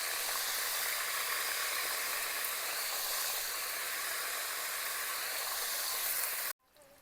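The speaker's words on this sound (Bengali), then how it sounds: "ফুলকপিগুলো তেলের মধ্যে ফ্রাই করে নিয়েছি।" Cauliflower florets frying in a pan of hot oil give a steady, dense sizzling hiss that holds evenly for about six seconds and then cuts off abruptly, leaving quiet.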